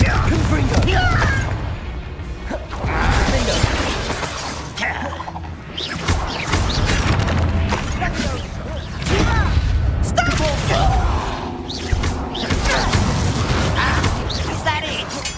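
Confringo fire spell blasts in Hogwarts Legacy combat land as repeated booming bursts with shattering crashes, mixed with spell effects, battle clatter and character voices speaking between hits.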